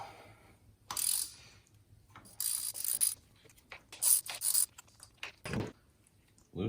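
A ratchet on a socket with an extension loosens a spark plug on an NA Miata, giving several short bursts of clicking pawl action separated by pauses, close and moderately quiet, with no talk.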